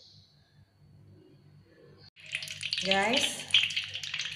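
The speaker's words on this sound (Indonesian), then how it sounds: "Nanti kita tumis, tapi terlebih dahulu kita panaskan dulu minyaknya" Oil heating in a pan for cooking sambal lado jengkol, starting quiet and then breaking into a loud, steady sizzle that keeps going after a brief spoken word.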